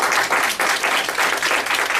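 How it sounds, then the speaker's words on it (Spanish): Dense, steady applause from an audience at the close of a Spanish-language talk on patriarchy and the traditional family, loud and continuous with a slight pulsing rhythm. "Nos damos otro aplauso"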